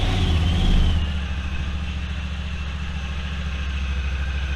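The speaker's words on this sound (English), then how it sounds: "Let's start by warming up the machine so the oil comes out easier." A Honda Talon side-by-side idles steadily to warm its engine before an oil change, a close, low, even rumble that settles down slightly after the first second and holds constant.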